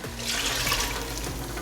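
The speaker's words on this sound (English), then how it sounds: "Let's go ahead and put our water in there." Water pouring steadily into a Ninja Foodi pressure cooker, a continuous close splashing rush with no pauses and no speech.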